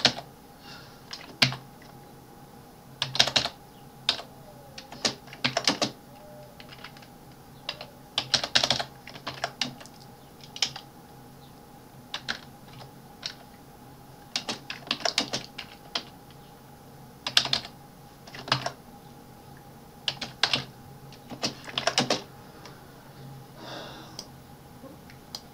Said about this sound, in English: Type from keyboard.